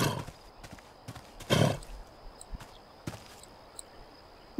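A horse in The Sims 3 video game, with hoof clip-clops and a short neigh near the middle over a faint steady game background hum, with no talking.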